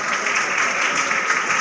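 A crowd claps vigorously and without pause at an award ceremony for Urdu-medium school toppers, the close, even roar of many hands holding steady from start to finish.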